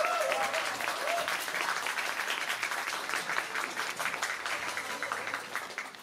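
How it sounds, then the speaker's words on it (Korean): A crowd at a TV drama press conference photo session applauds as the director is welcomed up for a group photo. The dense, steady clapping lasts several seconds at moderate loudness and fades slightly toward the end. "박수로 모실게요"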